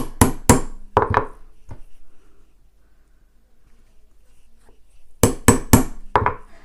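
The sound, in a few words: hole punch punching rivet holes in bag panel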